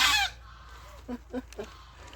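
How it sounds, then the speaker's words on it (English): Loud honking bursts open the clip, followed by a few fainter honks spaced out over a quiet background, like geese calling overhead. "No flying geese."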